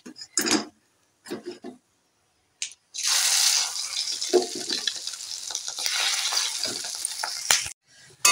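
Fish roe fritters with pumpkin flowers fry in hot oil. A steady, fairly loud sizzle runs for about five seconds, with stirring noises, after a few short scrapes and knocks.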